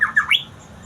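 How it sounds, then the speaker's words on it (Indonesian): A white-rumped shama, or murai batu, just after bathing gives a few quick harsh chirps close by, heard alone over a steady background hiss. "Dan setelah mandi, burung malah berkicau ya teman-teman."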